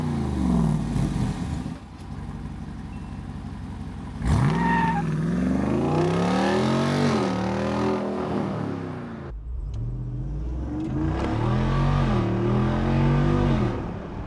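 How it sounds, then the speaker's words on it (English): A Jeep Wrangler 392 V8 engine and exhaust revs loudly in repeated rising and falling pulls, with a deep rumble and a brief pause between bursts, heard alone and up close. "One of my favorite things about the Jeep is definitely the sound."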